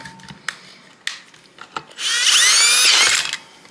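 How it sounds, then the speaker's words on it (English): Power drill boring holes into a custom fuel cell surge tank, a loud grinding whine lasting about a second and a half after a few sharp clicks and knocks, close up with no talk. "There are so many better ways to drill these."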